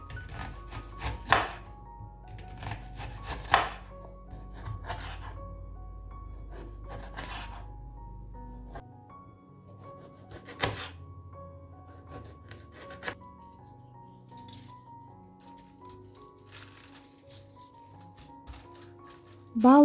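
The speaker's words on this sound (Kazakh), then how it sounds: "Пиязды, қызанақты осылай домалақ қылып турап аламыз" A knife chops onions and tomatoes into rounds on a board for a fish koktal recipe, with scattered sharp cuts at irregular intervals, fairly close, over quiet kitchen background.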